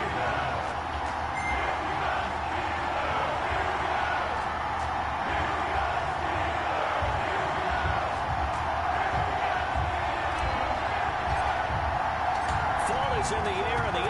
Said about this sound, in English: This crowd is ready as their guys get set to match up